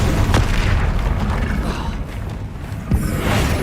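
A Depulso force-push spell goes off in Hogwarts Legacy, a loud, booming blast with a rumbling low-end burst and a second sharp impact near the end, heavy and close.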